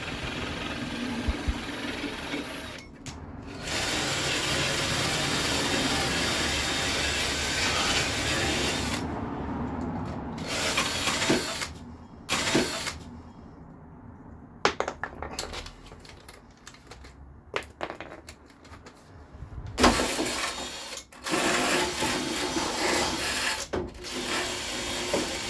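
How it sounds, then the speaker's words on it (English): A power drill with a wire brush rasps and scrubs into small crevices of a 1975 Vauxhall Viva in long bursts, stopping and starting repeatedly with short pauses between. "Using a wire brush on the end of a drill to get into these little crevices."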